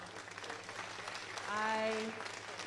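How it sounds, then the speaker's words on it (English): Spectators at a national alpaca show applaud with light, scattered clapping from a modest crowd in an echoing arena, while a brief voice rises over it midway. "how about we give them all a round of applause"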